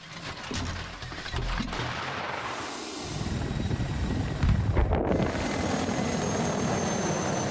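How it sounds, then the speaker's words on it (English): Military bomber aircraft pass overhead during large-scale exercises with troops and tanks, a loud broadband engine roar that builds and swells, then a brief drop before the rumble resumes, with wind buffeting and no voices. "Tanks on the move. Bombers in the sky."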